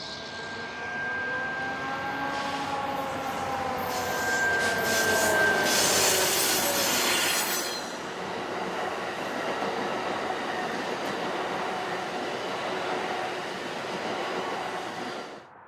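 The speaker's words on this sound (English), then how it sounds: "a double-headed surfliner approached our camera position" A double-headed Surfliner passenger train approaches and rolls past, a loud rising rumble of engines and wheels with a steady horn-like tone, then a long fading roar of cars passing close by.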